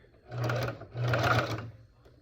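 A home sewing machine runs a zigzag stitch through stretch fabric while a circle skirt is sewn, two steady motor bursts with a short pause between them, close and fairly loud.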